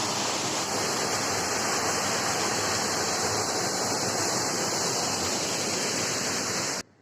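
Udayar Spring waterfall in South Goa in the monsoon, a steady, loud, broad rushing roar of falling water that holds constant throughout, with no voices.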